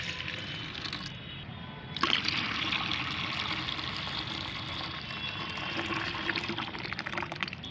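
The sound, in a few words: pouring homemade liquid fertilizer into water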